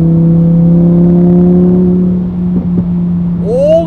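A Lamborghini Huracán Evo engine in sport mode idles with a deep steady hum, then blips and revs upward near the end, close and loud.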